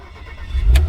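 Engine of a 2016 Porsche Macan S, a low rumble swelling into a short rev near the end, close and fairly loud.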